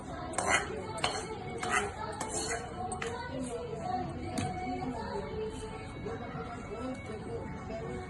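Mango rice gets mixed in a pan, with a spoon scraping and clinking against the metal in a run of sharp taps that settle into softer stirring, under quiet background talk.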